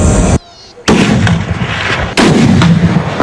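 Marines firing a Barrett sniper rifle during confidence firing: three loud, sharp shots, each with a booming tail that rings out, the second after a brief silent gap.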